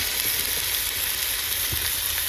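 Jackfruit and potato fry in a kadai with a continuous bright sizzle of hot oil, close and steady, with a faint scrape of stirring now and then and no talking.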